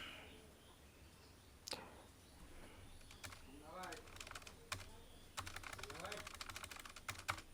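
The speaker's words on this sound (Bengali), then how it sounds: "এখন আমি লিখি আই লাভ ইউ ঝুমুর" Typing on a computer keyboard, with bursts of quiet, close key taps that grow into a steady rapid run toward the end, alongside a few faint background sounds.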